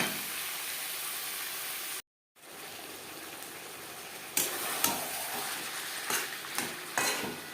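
Aloo chicken curry cooks over a high-to-medium gas flame with a steady, close hiss of sizzling. A brief silent break interrupts it, then scraping stirs and knocks of a spoon against the pan return.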